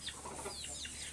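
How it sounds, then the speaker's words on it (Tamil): An ordinary chicken clucking close by in a pet room, a few quick, soft, high clucks and chirps over a faint steady hum. "பாருங்க நம்ம நார்மல் கோழி."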